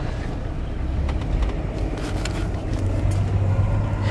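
A 1986 AMC Eagle Limited wagon driving, its steady engine drone and road rumble heard from inside the car, continuous and moderately loud with no talk.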